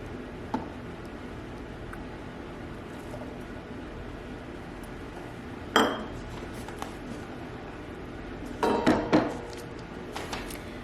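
Apples for cranberry chutney are stirred in a pot, with a steady low simmering bed broken by a few sharp clinks and knocks of the spoon against the pot, one near the middle and a cluster toward the end.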